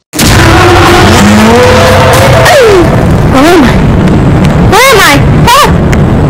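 Car driving in the Roblox video game: a loud, steady engine drone with rising and falling whines and short tire-squeal sweeps, running continuously under a voice.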